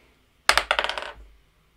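Small dice from a Nemesis Lockdown board game box dropped onto a table, one sharp clatter followed by a quick run of bouncing rattles that die away within a second.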